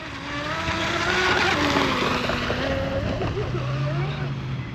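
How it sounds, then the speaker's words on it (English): An American-made J&R Marine H26 RC hydroplane runs its engine on water as the throttle is feathered, giving a loud, continuous, close whine whose pitch rises and falls, with no talking over it. "Just feathering the throttle, guys. Trying to see how she's reacting."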